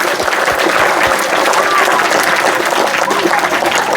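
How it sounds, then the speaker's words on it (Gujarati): Audience clapping at a children's event, loud dense applause from a crowd throughout, with a few heavier individual claps standing out near the start and faint voices underneath. "હાલો આપણે તાળીઓ પાડીએ"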